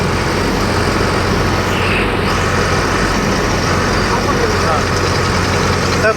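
A four-wheel-drive vehicle running in two-wheel drive on a farm, its engine a loud, steady, constant-speed drone throughout, with a voice talking over it.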